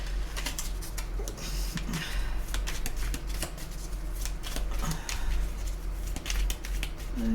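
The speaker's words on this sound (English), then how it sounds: "as we shuffle the cards" Steady rapid riffling of playing cards being shuffled, close up and continuous, with soft papery flicks throughout and no talking.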